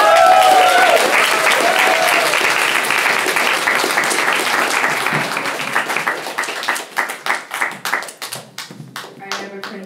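An audience at a stand-up comedy show applauds, starting as a dense wash of clapping with a few cheers, then thinning out into scattered individual claps as it fades.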